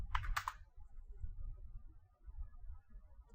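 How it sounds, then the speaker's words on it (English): A few quick keystrokes tap on a computer keyboard in a short burst at the start, then fade into faint low room hum with no talking. "If I just go ahead and type Microsoft,"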